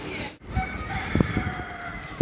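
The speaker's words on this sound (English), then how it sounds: "That's a beautiful rooster." A rooster crows once at close range in Tobago, its call rising out of a bed of outdoor ambience with scattered chirps and clucks around it.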